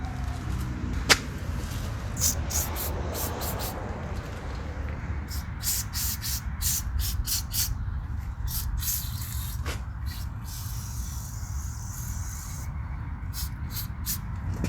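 PB Blaster penetrant sprayed onto seized bolts on a Ford Flex during axle and bearing work: a close run of short, sharp hissing bursts, repeated at an uneven pace over a steady background rumble.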